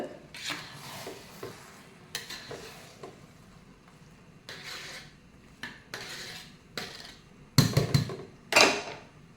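A metal spoon stirs and scrapes through chicken biryani in a pot, giving irregular clinks and scraping strokes with a few louder clanks near the end, and no talk.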